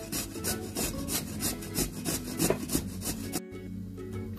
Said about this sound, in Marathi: यासाठी आपल्याला आंबे हळद आणि आलं किसून घ्यायचं आहे. यासाठी मोठी किसणी वापरलेली आहे.